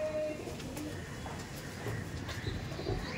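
Many pigeons, including racing pigeons, coo in a loft amid constant low murmuring and rustling, with soft overlapping calls throughout and no talk.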